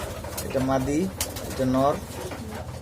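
Pigeons coo in a loft where chicks are kept, with two close, soft cooing calls heard while someone talks over them.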